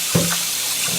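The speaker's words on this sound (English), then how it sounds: "just rinse the rice in cold water" Cold tap water runs steadily over Korean-style rice being rinsed in a sink, making an even rushing hiss. A brief knock of grains or a bowl sounds near the start, and there is no talking.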